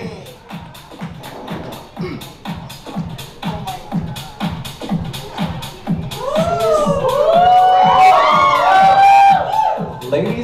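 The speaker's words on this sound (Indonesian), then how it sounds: "kita akan menyapa dengan tepuk tangan yang paling meriah untuk kita semua yang ada di sini" Crowd welcoming Jessie Mosey, reigning Hispano-Americana Indonesia 2023, at a homecoming event with rhythmic unison clapping, then rising cheers and high whoops and screams that swell loudly toward the end.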